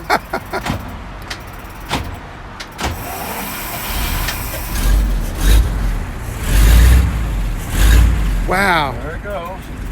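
A 1924 Cadillac V-63 with a three-speed transmission runs and pulls away, its engine rumble swelling in low surges under ongoing talk, with a brief horn-like tone near the end.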